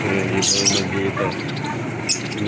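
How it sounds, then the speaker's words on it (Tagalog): Lovebirds near a fish aquarium give a few brief, high chirps, the first cluster early and a single chirp near the end, over a steady background murmur. "May ibon."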